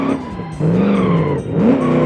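A car accelerating on the automation test track in the BeamNG driving game, a loud close engine roar climbing in pitch through gear changes, with tire squeal, and no talking.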